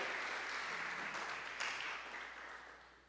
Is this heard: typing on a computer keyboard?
no